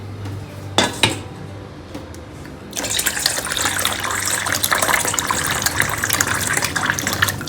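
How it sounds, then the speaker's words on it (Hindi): Water is poured into a cooking pot for apricot dessert, starting after a few light metal clinks and becoming a steady, loud gushing pour that runs to the end. "इस पानी में थोड़ा और मैं ऐड करूँगी क्योंकि मुझे कम लग रहा है।"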